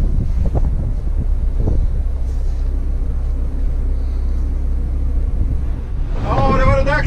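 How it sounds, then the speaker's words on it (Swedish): Strong wind roaring across a microphone on a boat on Lake Vättern, a steady loud rumble throughout, with a voice speaking near the end. "Jäklar vad det blåser."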